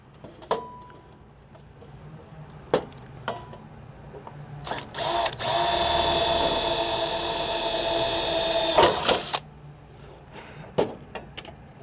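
A power drill whirs steadily for about four seconds amid scattered clicks and knocks before and after, close and fairly loud.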